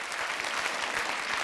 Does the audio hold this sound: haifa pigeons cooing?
no